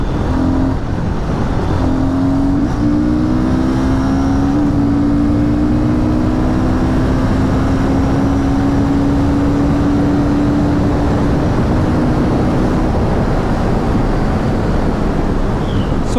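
A Royal Enfield Guerrilla 450 motorcycle pulling hard in fourth gear on a road in Punjab, its engine tone rising steadily under loud, constant wind rush, with no talking.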